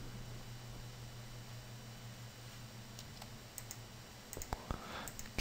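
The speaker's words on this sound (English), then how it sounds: "I'll hit L on the keyboard, then U, then click Unwrap." Keys pressed on a computer keyboard while working in Mudbox 2014 UV editing, a few sharp clicks near the end over a steady hum of computer fan noise, no talk.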